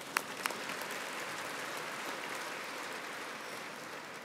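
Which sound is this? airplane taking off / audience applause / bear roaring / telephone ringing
audience applause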